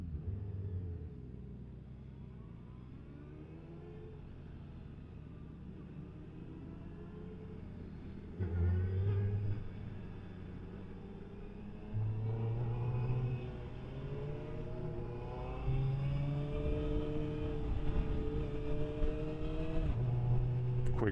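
A 2023 Suzuki Hayabusa motorcycle engine pulling steadily through the gears with a quick shifter, a continuous droning rumble stepping up in pitch with each shift, heard from the rider's position under steady wind noise.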